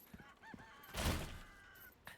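Chickens in the Resident Evil 4 Remake video game cluck and squawk in short bursts, with a louder flurry in the middle and a final brief call, fairly close and with no talk over them.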